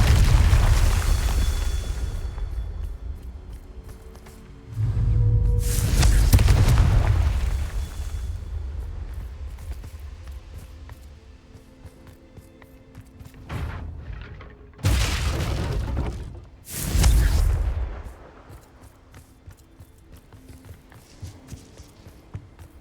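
Confringo fire-spell explosions in Hogwarts Legacy gameplay, several loud, deep booming blasts with rumbling tails, separated by quieter stretches of footsteps and ambient game sound.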